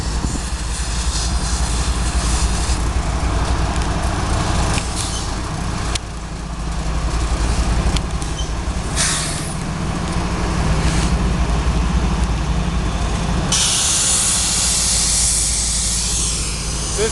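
A freight train pulled by several engines rolls slowly past on its way to stop at a Ford factory. A loud, continuous rumble and hiss runs through the whole stretch, with no talking.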